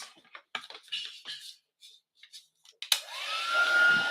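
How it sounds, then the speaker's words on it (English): A heat tool switches on with a sudden burst and then blows steadily, embossing a stamped card inked with Versamark; the whooshing hum rises and holds alone after some soft handling and tapping sounds. "let's bring in the heat tool and we'll emboss those"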